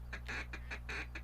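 Mallard duck quacks in the Duck Dynasty hunting video game, a quick run of about six bright, nasal calls in steady rhythm over a constant low hum, fairly loud and close.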